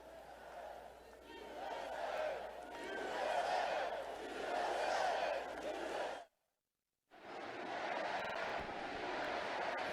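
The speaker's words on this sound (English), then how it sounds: "As the crowd begins to erupt in USA, USA, USA chants" Rally crowd chanting and roaring at a Trump rally in Tupelo, Mississippi, loud massed voices rising and falling in waves, breaking off abruptly for a moment before resuming.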